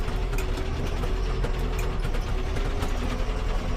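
A 2010 John Deere 7130 tractor engine runs steadily and loud up close, holding a constant throttle-raised drone with mechanical ticking and whine over its low rumble.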